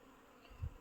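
Honey bees buzz faintly around a hive frame while a beekeeper works with queens, a short soft hum that swells briefly near the end.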